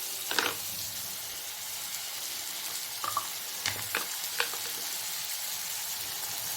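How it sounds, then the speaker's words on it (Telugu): Small eggplant pieces, soaked in salt water, frying in a pan with softened tomatoes, a steady soft sizzle with a few sharp clatters and stirring scrapes, close, with no talk. "అది సాఫ్ట్ అయిన తర్వాత అప్పుడు వంకాయలని వేసుకోవాలి."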